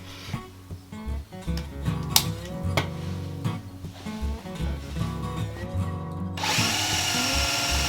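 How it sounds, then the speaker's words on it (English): A power drill bores a hole through wood in a farmhouse to run a water line, its motor whining in uneven bursts with rising and falling pitch before a loud, rougher grinding sets in near the end. "So we gotta start drilling."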